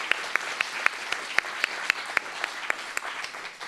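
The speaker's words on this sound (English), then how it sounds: "Let's give her a big round of applause." Audience applause at a caregivers' community panel, a moderate crowd clapping continuously, with a few crisp hand claps popping out at a steady rhythm for nearly four seconds.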